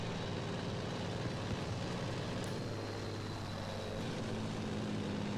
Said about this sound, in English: I'm hearing a big engine. It might be the Blenheim. No, it's a Spitfire.